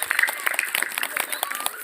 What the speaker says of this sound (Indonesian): tepuk tangan buat pertanyaannya yang luar biasa